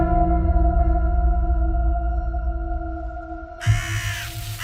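Crows caw as a sound effect behind a spoken horror story, set against a steady low drone; a sharper burst of cawing enters near the end.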